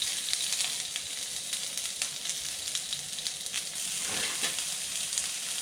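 Garlic sizzles and crackles steadily in about two tablespoons of hot oil in a pan, a constant close frying hiss with a brief stir near the end, with no talk.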